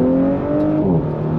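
An Audi B9 S4 pulls hard at full throttle, its engine note climbing steadily and then dipping briefly at a gear change before rising again, loud and close with no talk.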